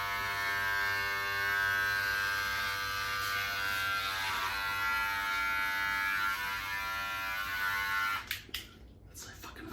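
Electric hair clippers buzz loudly and steadily while cutting through long hair three to four inches in length, a strong continuous motor drone with harmonic whine that cuts off abruptly near the end, followed by a few brief handling knocks.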